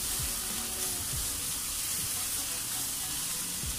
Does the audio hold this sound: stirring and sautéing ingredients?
yes